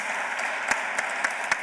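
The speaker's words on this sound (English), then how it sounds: "a round of applause, please" A crowd applauding at the Hay Festival in Segovia, a dense wash of clapping with a few sharper individual claps standing out.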